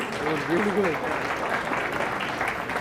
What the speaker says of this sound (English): Another big round of applause for the ICA friends.